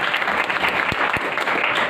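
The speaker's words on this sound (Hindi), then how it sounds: "मिस्टर राम अवतार रघुवंशी जी, इनके लिए जबरदस्त तालियां।" Loud, sustained audience applause at a motivational seminar event, a thick wash of many hands clapping with a few sharper claps standing out.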